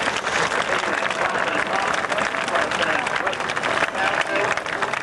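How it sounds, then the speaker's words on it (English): Crowd at the 1991 RAF Valley air show in Anglesey applauding parachutists after the last one lands, a loud, sustained, dense burst of clapping from many spectators with a voice talking over it. "Give them a big round of applause."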